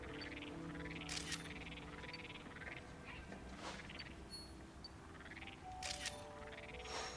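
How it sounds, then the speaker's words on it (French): Toads croak in the New Pokémon Snap video game, giving a steady run of repeated rising calls over a continuous ambient game backdrop, with brighter bursts now and then. "Ouais, ça fait un bruit de crapaud."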